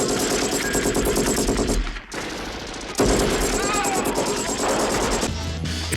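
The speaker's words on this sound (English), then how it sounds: "you're barely dodging all the enemy bullets whizzing past you as you're strafing around them, laying down return fire" Rapid bullet fire and shooting in the PlayStation-era mech shooter Omega Boost, a dense continuous barrage with a brief dropout near the two-second mark, loud and busy throughout with music and effects layered underneath.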